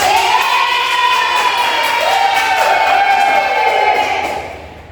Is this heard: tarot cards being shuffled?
no